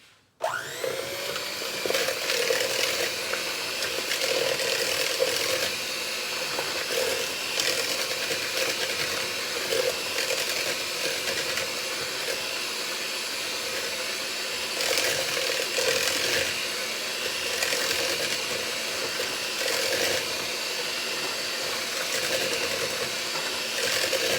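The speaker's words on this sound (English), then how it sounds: "I'm going to just go ahead and use the mixer on low" An electric hand mixer runs on low, beating butter with brown sugar for banana bread, giving a steady whirring motor drone with faint rhythmic scraping throughout.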